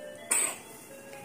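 A sick baby gives a short, sharp cough burst, close by and fairly loud against a quiet room, with no talking.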